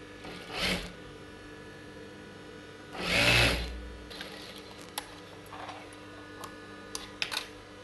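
A sewing machine stitching the folded inner sides of a blouse runs in two short, quiet bursts of whirring motor and needle, one brief and one about a second long. Faint handling clicks come between them.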